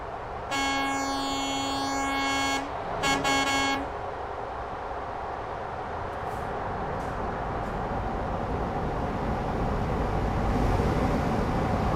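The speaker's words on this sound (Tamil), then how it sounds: "வண்டியோட சவுண்டு பார்த்தீங்களா? சும்மா வேற லெவலில் சவுண்டு வரும்." A Euro Truck Simulator 2 truck hauling an industrial cable reel gives a long, loud horn blast, then a shorter one, followed by a steady, rumbling engine drone.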